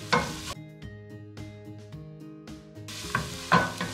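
Garlic and turmeric powder sautéing in a pan, with stirring scrapes and a light sizzle that comes in short bursts, louder at the start and end, over a steady tonal hum.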